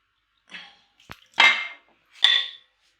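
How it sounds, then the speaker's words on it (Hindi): Chicken feet curry is ladled from a pot into a serving dish, with a few distinct metallic scrapes and clinks of a spoon against the pot, close and separated by short pauses. "अब हम इसको डिश आउट करते हैं।"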